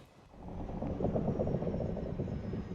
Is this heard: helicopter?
yes